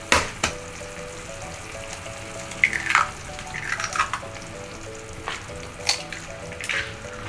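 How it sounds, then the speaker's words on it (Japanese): Two eggs go into a pan of pasta sauce made with chicken stock and tsuyu over low heat: a low, bubbling sizzle runs throughout, with clustered clicks and a few sharp knocks and scrapes from tongs, close by and unvoiced. "弱火にして卵2つ割り入れる"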